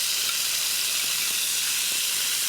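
Onion and tomatoes sizzle steadily in hot oil while cooking Indian green beans, a continuous bright hiss of frying that holds evenly throughout with no voices.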